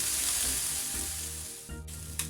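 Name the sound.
puti fish frying in mustard oil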